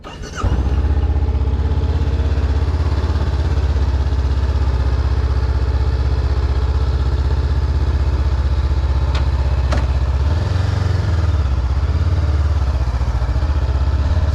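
A Honda CB500F motorcycle engine runs close by, a loud steady low rumble for the whole stretch with a brief change in pitch near the end.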